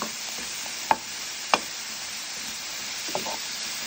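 Mushrooms for a ravioli filling browning in a pan, a steady close sizzle with two sharp utensil clicks against the pan and a softer stir near the end.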